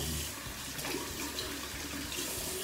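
Water runs steadily from a bathroom sink tap, close and quiet, with faint splashing as a face is washed, no talking.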